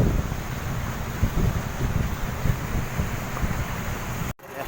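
Steady, loud wind buffets the microphone outdoors in Langgao while loading, a continuous rushing roar that cuts out abruptly for a moment near the end.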